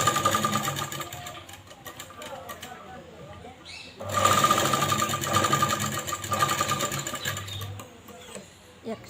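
A sewing machine stitching folded fabric, a steady mechanical rattle that carries on throughout, growing louder partway through, while someone speaks over it.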